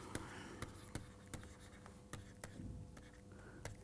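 Chalk or pen writing on a board during a mathematics lecture on vector spaces, heard as quiet, close scratching strokes with sharp taps every fraction of a second over a faint room hum.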